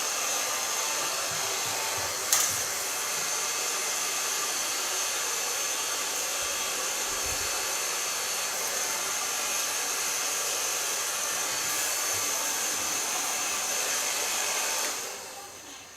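A hair dryer blows steadily at a salon during a cut and colour session on long hair, a continuous loud broadband whoosh lasting throughout with a brief bump near the start and cutting off at the end.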